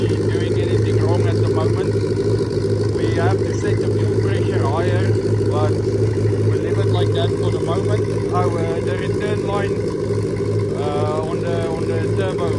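A turbocharged Suzuki Hayabusa engine runs on all cylinders, giving a loud, steady drone with a strong low hum that holds even throughout.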